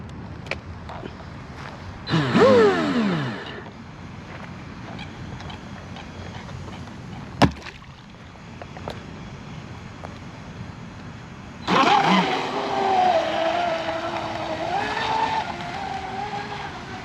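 A J&R Marine H26 fiberglass RC hydroplane running on a 4019 CNC prop, its small engine whining in a rising burst, then droning steadily at a distance before surging loud and close again.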